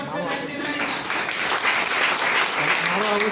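Audience applause at a Hindi business seminar, dense clapping running steadily throughout with voices mixed in underneath.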